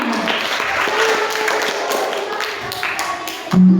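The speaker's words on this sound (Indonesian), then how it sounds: "beri tepuk tangan untuk penampil kelima" Applause from a school audience for the fifth performer at an elementary school drama practical exam, a steady patter of clapping that fills the room and ends abruptly with a short tonal thump.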